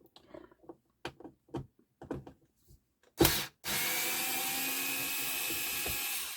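A new cordless electric screwdriver backs out screws on a Sansui P-D20 turntable motor: a few scattered clicks and handling knocks, then a loud whir that starts and runs steadily to the end.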